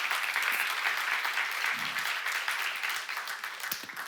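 Audience applause at a church seminar session, dense and steady clapping filling the whole stretch, tapering slightly toward the end, with no voices over it.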